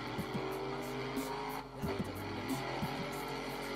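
Racing car engines in the video game GRID Autosport roar steadily at a distance, with rising and falling revs and occasional tire squeals, no voices.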